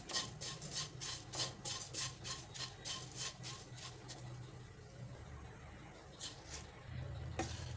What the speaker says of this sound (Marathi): गोविंद लाडू बनवण्यासाठी आपल्याला हे पोहे थोडेसे हलकेसे भाजून घ्यायचे आहेत